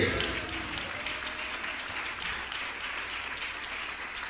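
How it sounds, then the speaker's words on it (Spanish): A church congregation applauds in a continuous, moderately faint patter of many hands, steady throughout with a hollow, roomy feel. "Dele un aplauso al Rey."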